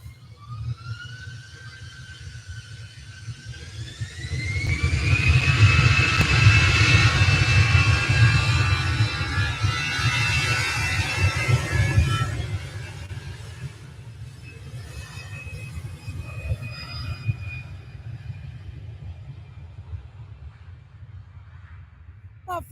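Passenger jet taking off from Manchester Airport bound for Malta, a rising whine and roaring engine thrust swelling loudly, then slowly fading as it climbs away.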